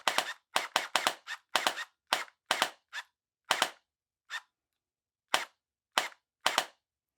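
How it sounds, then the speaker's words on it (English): A Cyberpunk 2077 Quasar DR-12 gel blaster fires in single fire mode, about fifteen sharp snapping shots up close, some in quick doubled pairs and others spaced out by short pauses. "Sometimes it shoots twice in single fire mode"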